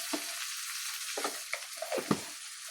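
Bitter gourd with salt and turmeric being stirred in a frying pan: a steady soft sizzle broken by a few scraping, clattering stirring strokes, close by with no talking.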